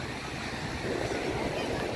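Surf rushes and washes continuously at Manly Beach, Sydney, with wind noise on the microphone, a broad, steady roar of breaking water close by.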